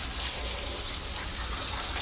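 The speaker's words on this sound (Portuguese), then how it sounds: "Calma, vou ligar a torneira." Water gushes steadily from a household tap during a bath, a continuous even hiss of running water close by with no voices.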